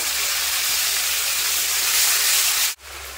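Water poured onto sizzling spice paste frying in a pan for rohu fish curry with potato and pointed gourd, giving a loud, continuous hiss and spray of steam that breaks off sharply near the end.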